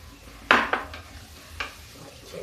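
Tinda masala stirred and fried in a pan over high heat, with a few sharp clinks and scrapes of a spoon against the pan over a low, steady sizzle.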